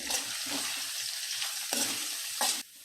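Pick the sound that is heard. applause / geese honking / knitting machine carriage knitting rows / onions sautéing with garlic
onions sautéing with garlic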